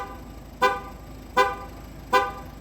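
Three short, evenly spaced horn toots from a 2012 Ford C-Max signal that the car has been left running. Each beep is clear and sits over a steady low background.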